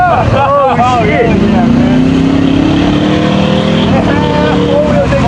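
A lifted truck's engine revs hard as its spinning wheels dig into dirt, a loud, rising and falling roar up close with wind buffeting the microphone. Excited voices shout over it.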